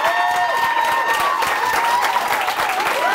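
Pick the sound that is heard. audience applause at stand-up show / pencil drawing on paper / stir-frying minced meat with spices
audience applause at stand-up show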